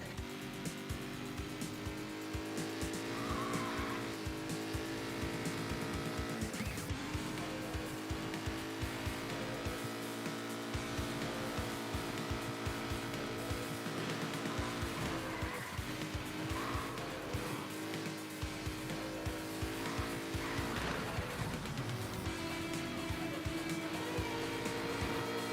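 Race cars in the arcade racing game Screamer roar continuously with high engine whine, drifting through corners with repeated tire squeal and skids, loud and unbroken throughout.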